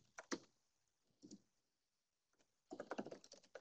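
Typing on a computer keyboard, quiet close clicks in short bursts with a silent pause in the middle and a denser run of keystrokes at the end.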